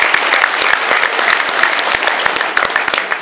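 An audience breaks into steady, dense applause at a rifle team performance, honoring a national single-rifle champion. Many hands clap continuously and loudly throughout, without a break.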